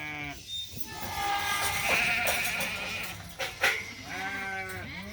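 Sheep and lambs bleat close by at a farm sorting chute, several wavering calls overlapping one another over a steady pen-side background.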